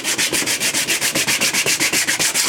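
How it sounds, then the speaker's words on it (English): Rough silver paint being sanded back on a car body, a steady run of quick, even back-and-forth rubbing strokes, close and fairly loud, with no talking. "as you just sand back, it's just taking the silver off"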